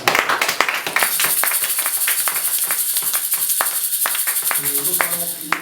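A church congregation at a Sunday service claps and cheers in praise, dense overlapping applause with sharp individual claps and voices mixed in, steady and fairly loud throughout.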